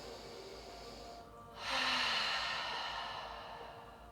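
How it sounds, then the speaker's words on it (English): A long, deep yogic breath taken slowly during a gentle hatha flow, the exhale swelling into a soft, breathy rush that gradually fades, close and alone with no talking. "One more big long breath here."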